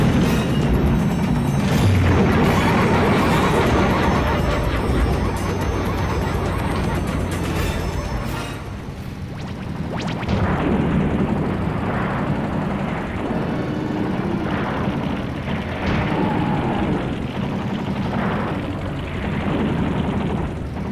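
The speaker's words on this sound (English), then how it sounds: "fight all over the world in crazy fights between vehicles with missiles, machine guns, crazy laser beams, everything you could think of" Vehicle combat in the PS1 game Twisted Metal, with dense, continuous explosions, engine roar and gunfire blending into a loud, busy wall of noise throughout.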